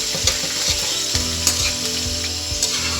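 Onions fry steadily in a pan with a loud, close, continuous sizzle, and occasional scrapes and knocks from stirring come through on top.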